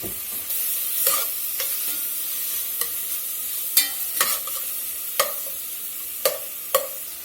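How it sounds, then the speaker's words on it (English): Diced onion sizzles and sweats with salt pork in a pot under a soft, constant frying hiss. Sharp, irregular stirring clacks punctuate it close by, with no voices. "We'll put that in there and let it sweat with that salt pork."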